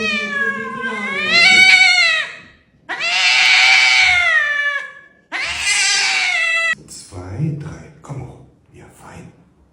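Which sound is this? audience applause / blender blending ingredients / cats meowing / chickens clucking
cats meowing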